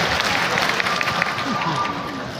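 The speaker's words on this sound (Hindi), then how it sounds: "जोरदार ताली प्लीज" An audience claps and cheers continuously at an event stage, a dense, steady wash of applause filling the whole stretch without pause.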